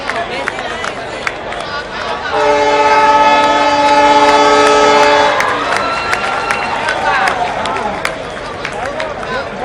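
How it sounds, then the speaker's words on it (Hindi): A train on a new rail line at Balangir, Odisha, sounds a loud, sustained horn blast of about three seconds as it starts to move, over steady crowd noise and voices. "रेलगाड़ी गड़िबा आरंभ होइछि"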